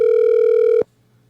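A telephone line gives a steady, loud electronic tone while a call is placed, then it cuts off abruptly into near silence.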